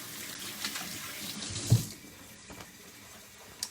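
A kitchen tap runs steadily while hands are washed, a soft, even water hiss with faint splashes and clinks, without talk.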